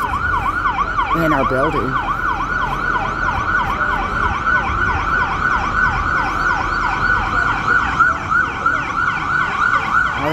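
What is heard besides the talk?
fire truck sirens arriving at a building fire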